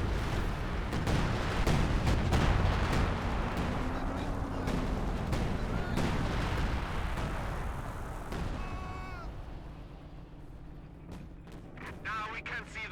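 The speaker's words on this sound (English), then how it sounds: "Now the assault barrage being summoned." An assault artillery barrage in Company of Heroes 2 sends repeated heavy thuds and explosions rolling in a dense, continuous rumble, fading toward the end while a commentator talks over it.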